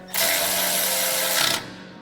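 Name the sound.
ratchet tightening 12 mm bolt on Toyota Tacoma wheel hub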